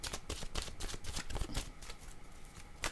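Cards riffled and shuffled for a tarot-style reading, a run of quick papery bursts and flutters with a final snap near the end, close and clear with no voices.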